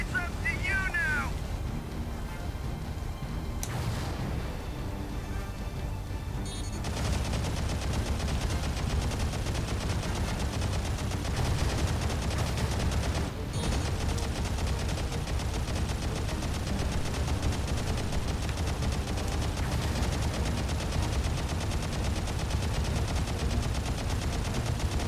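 Sustained gunfire in the Gundam Crossfire video game, a dense, continuous barrage of rapid shots over steady mechanical rumble, loud throughout.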